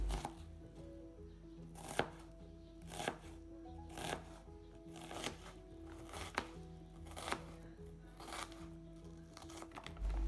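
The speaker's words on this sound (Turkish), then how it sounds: "2 adet soğanı ortadan ikiye bölüyoruz ve yarım ay şeklinde ince ince doğruyoruz" Steady knife chops slicing onions thinly on a cutting board, regular strokes about once a second, close and crisp over faint background music.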